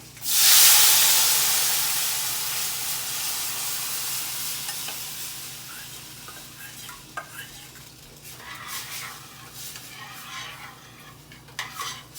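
Spices such as asafoetida and fenugreek pickle masala tempered in hot oil for a drumstick curry. The sizzle erupts loudly at the start, then settles into a steady hiss with occasional stirring clinks.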